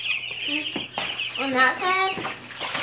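Backyard chickens cluck and call in short harmonic bursts nearby, with a voice talking over them.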